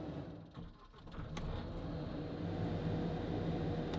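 A small New Holland machine's engine runs steadily after starting, a continuous low rumble with a faint mechanical whine, close and fairly loud, with no talk.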